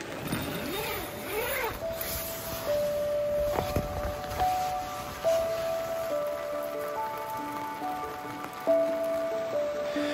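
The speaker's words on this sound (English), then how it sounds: "The rain and the sound of the river is like lullaby, white noise, wonderful." Rain pattering on a camping tent beside a river in the woods, a continuous soft patter blended with the steady rush of flowing water, with faint tonal sounds drifting over it and occasional louder drips.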